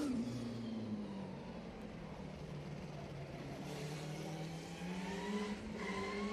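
Bowen P6 Formula 5000 race car with a Leyland engine at a historic sprint meeting, heard from a distance as a faint, steady engine drone whose pitch falls and then climbs as the car passes.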